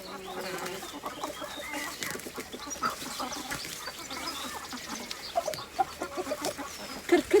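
Several hens cluck softly and continuously at close range while eating, with occasional sharper squawks and light pecking sounds, mostly alone without talk.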